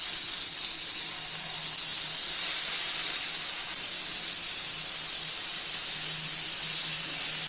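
Fish tikka frying on medium flame, a steady, bright sizzle and hiss of oil that holds level and close throughout, with no speech over it.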